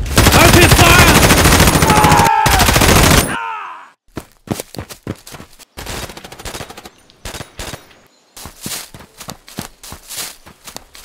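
Machine-gun fire in a toy army men stop-motion battle over a factory: a dense, loud continuous rattle for about three seconds, then sporadic sharp single shots and short bursts with gaps between them.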